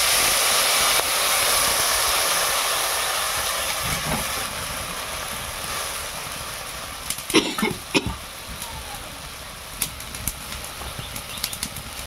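A pan of small puti and mourala fish curry with chilli powder, turmeric and a little water bubbles over the heat with a steady hiss, then sharper pops and spatters break through toward the end.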